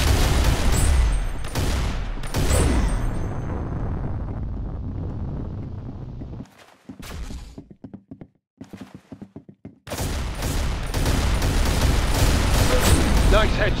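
Rapid bursts of gunfire in a Halo Oddball match, dense and loud at the start and end with a sparser, choppier stretch in the middle.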